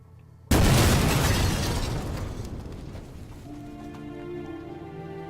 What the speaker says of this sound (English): I heard a deafening explosion